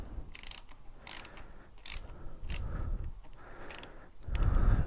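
A hand ratchet clicks in several quick bursts while tightening a nut on an aftermarket lever of a 2020 Yamaha R3 motorcycle, with short pauses between strokes and a louder rustle at the end.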